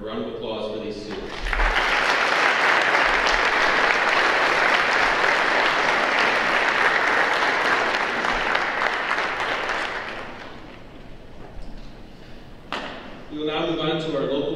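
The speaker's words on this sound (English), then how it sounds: "A round of applause for these students." Audience at a high school senior awards program applauds the students, a long, loud, even roar of clapping that gradually thins, with a voice speaking before and after.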